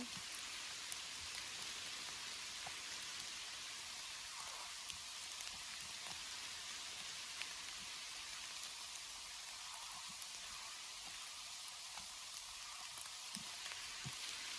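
Steady rain falls outdoors during mushroom picking, a continuous soft hiss of drops with scattered small taps on nearby surfaces and no voices.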